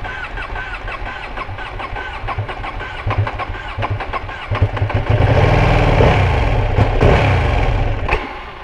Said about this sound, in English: Let's go and get that cold start going, baby. She does not like starting.